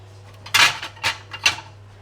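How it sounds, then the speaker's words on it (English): A small plate clatters against other dishes and cutlery as it is pulled out, three or four bright clinks and knocks in quick succession close by. "let's get a mini plate out for this"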